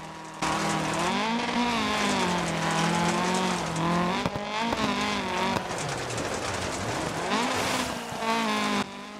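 A Lancia rally car in the Dirt Rally video game, its front-wheel-drive engine revving hard and changing pitch through gear shifts, loud and close with no talk over it.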